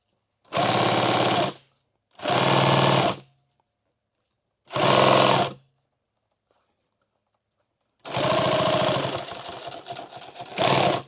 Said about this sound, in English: this is always the slowest run here because I'm trying to sew right back over this